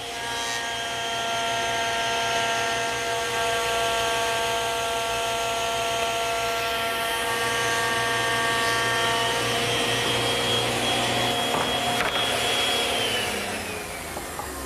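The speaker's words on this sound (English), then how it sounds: "I'm going to show you a shortcut using the thickness planer." A thickness planer feeds glued wooden panels, a loud, steady mechanical whine with strong motor hum running continuously, then winding down at the end, with no talking.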